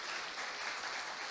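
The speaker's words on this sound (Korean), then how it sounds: "박수하겠습니다" A church congregation at a Sunday service claps steadily to welcome visitors, a continuous, fairly soft wash of applause with no voices over it.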